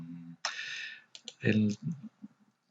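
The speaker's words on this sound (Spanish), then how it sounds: "Hago clic encima del trazado" Mouse clicks while editing text along a path in a design program, a sharp click standing out among quieter clicks, with someone speaking over them.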